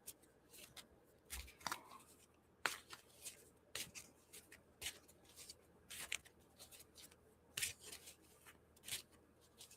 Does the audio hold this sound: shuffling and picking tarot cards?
yes